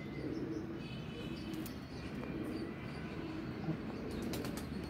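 Pigeons in a loft-like setting with a low, dense rumble of fluttering wings and cooing, plus a few brief sharp flaps standing out near the close, fairly quiet throughout.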